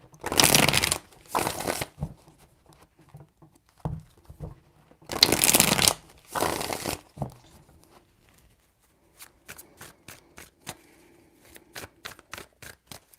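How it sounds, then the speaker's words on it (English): A deck of tarot cards gets shuffled in close, crisp rippling bursts, two pairs of flurries with quiet handling between them, followed by a run of sharp little taps as the cards are settled. "Three shuffles."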